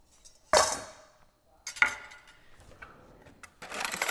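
A mixing bowl being picked up and set down in a kitchen while chimichurri sauce is made, with a sharp clatter, a second knock a little over a second later, and a rubbing, handling noise at the end, close and fairly quiet.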